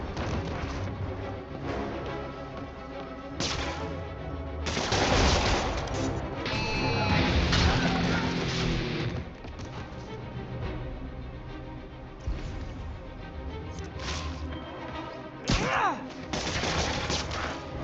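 Video game gunfire from Marvel's Spider-Man Remastered bursts through a dense, loud combat mix of shots, impacts and crashes, with voices shouting over the action.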